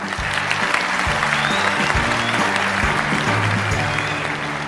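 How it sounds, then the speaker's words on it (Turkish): A studio audience at the Turkish singing competition O Ses Türkiye applauds, a dense, loud burst of clapping over a sustained low musical tone that shifts pitch, with no speech. "Çocuklar sizleri de alkışlıyorum."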